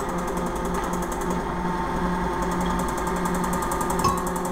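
A kitchen mixer runs steadily while mixing flour and salt for homemade pasta, a continuous close motor whir and rattle that stays even throughout, with a brief knock near the end and no speech.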